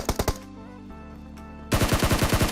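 Rapid bursts of automatic gunfire from an M249 light machine gun in the mobile battle-royale game PUBG Mobile, a short volley at the start, then a sustained loud string of repeated shots after a quieter pause.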